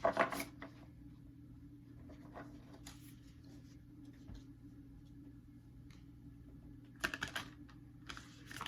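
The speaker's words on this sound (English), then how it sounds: "Oh, that was a bad shuffle." Soft, scattered riffling and tapping of tarot cards being shuffled, with brief clusters of quick flicks at the start and near the end, quiet and close.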